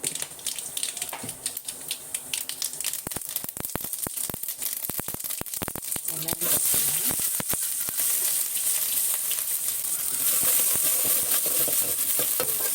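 Mustard seeds crackle and pop in hot oil in a pan, a close, busy sizzle with sharp sputtering bursts and stirring scrapes, growing denser toward the end.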